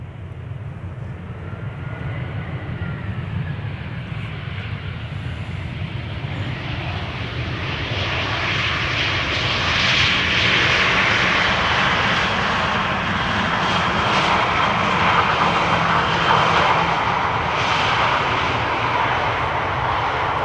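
An all-white Atlas Air cargo jet from Miami lands on the Polderbaan at Amsterdam Schiphol in low visibility, its engine roar building from distant to loud and steady over twenty seconds, with no talk.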